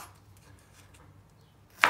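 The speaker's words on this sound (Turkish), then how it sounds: "Dörde böldükten sonra da böyle küp küp hepsini doğrayacağım." Knife chopping cucumber on a cutting board, with faint soft taps giving way to one sharp, close chop right at the end of an otherwise quiet stretch.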